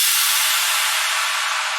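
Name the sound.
crash cymbal sample in a music production project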